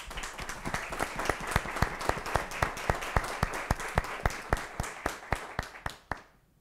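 Audience at a council session claps for a guest, a dense, steady round of applause with sharp, regular claps that fades out at the end.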